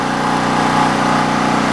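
A portable generator runs continuously at a steady hum, close and constant, with no speech.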